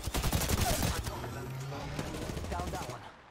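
Gunfire in the Apex Legends battle royale game: loud, rapid bursts of automatic fire crowding the first second, then scattered shots trailing off, with some voices mixed in.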